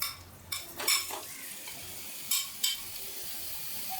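Marinated chicken pieces dropped into hot ghee in a pan, with a steady soft sizzle broken by a few sharp clatters and stirring scrapes near the start and again midway.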